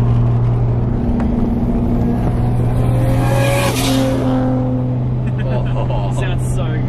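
A Nissan R33 Skyline engine drones loud and steady, with a rising tone as it accelerates. The sound is continuous and close, and voices talk over part of it.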